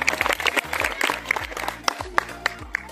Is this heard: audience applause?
yes